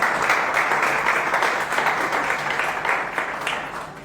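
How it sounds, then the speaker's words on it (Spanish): Loud, sustained applause fills a church during a Sunday service, a dense steady wash of many hands that tapers slightly toward the end. "Aplauso fuerte"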